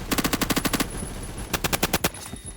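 Automatic fire from a gun in a shooting video game, two rapid bursts of sharp, evenly spaced shots, loud and close, with no talking.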